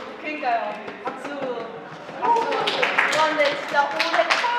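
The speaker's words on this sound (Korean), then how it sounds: "박수" Applause from a fan-meeting audience, a patter of hand claps and taps mixed with lively voices and cheering that swells louder midway through.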